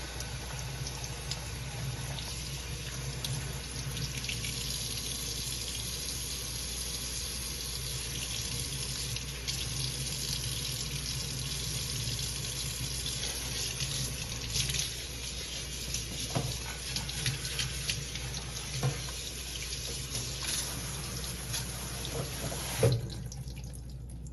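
Tap water running steadily into a sink while food for Jamaican cornmeal with gungo peas and curry chicken foot is washed, a continuous close hiss with occasional splashes and clinks, then cutting off near the end.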